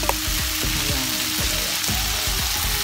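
Bitter gourd (ampalaya) hitting a hot pan and frying with a steady, loud sizzle, with repeated clanks of a utensil stirring it in a home kitchen.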